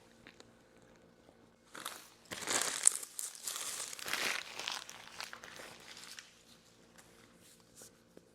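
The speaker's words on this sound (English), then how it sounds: "that crunch you just heard was the paper bag that I'm using as a napkin" Paper bag used as a napkin being crumpled and crunched up close, a burst of crinkling rustles lasting a few seconds in the middle, then fading to quiet handling noise.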